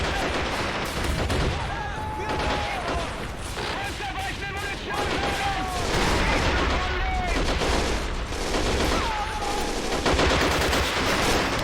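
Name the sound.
autocannon and gunfire in the video game Men of War: Assault Squad 2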